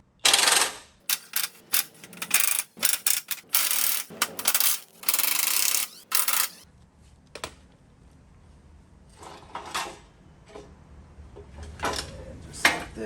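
Bolts on a Jeep Gladiator Rubicon 392's golden front tow hook are backed out with a T45 Torx bit, giving a run of close, sharp metallic clicks and ratcheting bursts followed by quieter scattered clinks.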